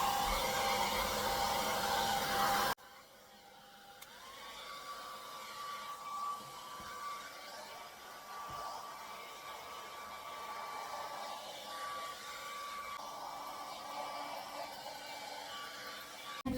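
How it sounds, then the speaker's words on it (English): A hair dryer blows steadily over wet paint on a craft surface with a loud, continuous whooshing hum, shifting in tone as it moves, with a faint whine running through it. "Now I'm going to move it around with my blow dryer."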